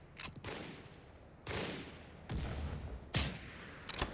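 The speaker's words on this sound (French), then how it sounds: "J'entends un sniper" Sniper rifle shots in the combat video game BRM5, several sharp distant-sounding cracks with rolling tails, spaced irregularly over a low ambient background.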